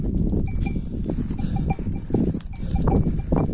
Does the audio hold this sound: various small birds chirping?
no